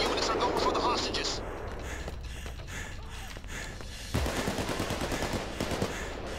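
Dense, continuous gunfire rattles through a Payday 2 heist shootout, loud and close, with sharper shots standing out over the steady barrage and a heavier burst near the end.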